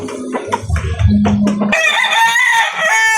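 A Sweater-breed gamefowl rooster crows loudly and close by, one long strained call that follows clucking and farmyard noise.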